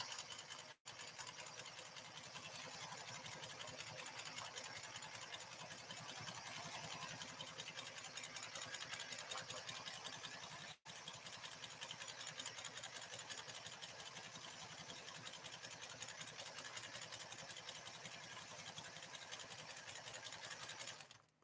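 A PFAFF 360 sewing machine running a straight stitch, a steady fast mechanical whir with rapid needle rhythm, close and continuous for the whole stretch, with two brief dropouts.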